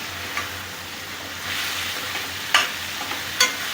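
Raw jackfruit frying in oil over a low flame, a soft steady sizzle close by with a few sharp spoon scrapes and clinks as it is stirred, no speech.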